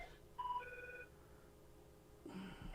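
A telephone rings with faint electronic tones in a short pattern, fading out and then starting again, against a quiet background in a comedy show setting.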